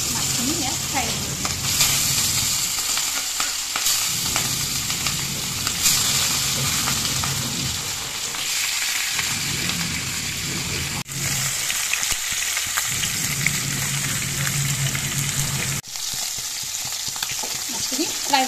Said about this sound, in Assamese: তাৰপিছত পিচ পিচকৈ মাছখিনি ইয়াত ফ্ৰাই কৰিলোঁ